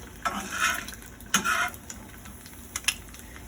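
An egg fries in a pan, a soft sizzle broken by a few short scraping strokes of a utensil against the metal, close and fairly quiet, with no talking.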